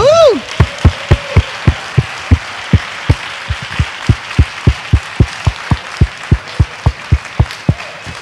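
An audience at an Applied Improvisation Network 2017 conference session with Alan Alda claps after a brief whoop. The claps are loud, close and evenly spaced, in a steady rhythmic beat lasting several seconds.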